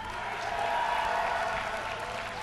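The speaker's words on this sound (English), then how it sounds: "give a cheer for Fnatic MSI's TTOne." A large esports crowd at the MLG Dallas 2010 StarCraft II grand finals cheers and applauds in a dense, steady roar that fills the hall at even loudness throughout.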